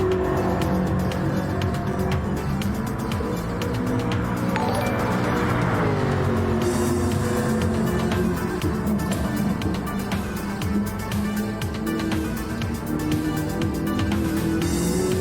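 Race cars in the Gran Turismo video game, a continuous loud engine roar with rising and falling pitch as cars accelerate and pass, sustained throughout with no speech.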